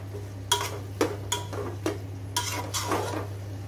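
Egg biryani masala, with a teaspoon of masala powder, stirred in a pan: a run of separate scraping, clinking strokes from a spoon against metal, about six in a loose rhythm over a steady low hum, with no talking.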